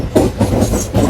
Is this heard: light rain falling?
no